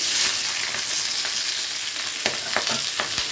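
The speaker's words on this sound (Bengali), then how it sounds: "গরম হয়ে গেছে, তেলের মধ্যে দিয়ে দিচ্ছি পেঁয়াজগুলো" Chopped onions sizzle in hot oil for a Bengali mixed fried rice, a steady bright frying hiss with a few sharper crackles and pops near the end, close and continuous with no talk.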